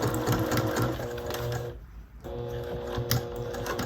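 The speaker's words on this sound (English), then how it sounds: "I'm going to back stitch because it is a seam." A sewing machine back stitches a seam on piping, running in fast rhythmic bursts up close, pausing briefly mid-way before resuming.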